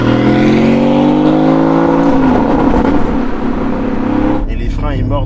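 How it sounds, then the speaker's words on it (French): Porsche Cayman GT4 flat-six in sport mode, a loud, steady engine note with rising harmonic tones that shift midway, heard close from inside the car under speech throughout. "Quel bonheur de démarrer un flat 6"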